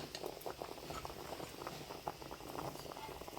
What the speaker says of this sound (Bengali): আলু দেখে নেব সেদ্ধ হয়ে গেছে কিনা